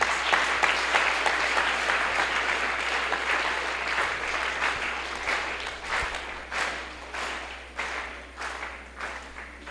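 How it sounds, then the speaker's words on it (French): Church congregation applauding during a worship service, a long wash of many hands clapping that keeps going for the whole stretch, fairly distant and slowly rising and falling in strength. "Applaudis bon Dieu là"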